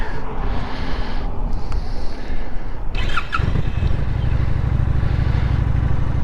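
A 2023 Honda Shadow Phantom cruiser motorcycle starts up, then settles into a steady, loud, low, throaty idle with a deep pulsing rumble that continues to the end.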